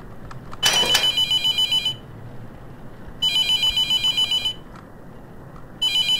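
A telephone rings in the horror game The Mortuary Assistant, with three bursts of electronic trilling separated by pauses, loud and close with no talking.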